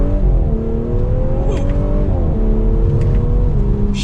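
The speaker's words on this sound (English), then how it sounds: "You heard the exhaust rev there. It has some pops to it" A 2023 Audi S5 Sportback in dynamic mode revs its exhaust through quick upshifts, the engine note rising and dropping in steady steps, loud and close throughout, with a few faint sharp pops near the end.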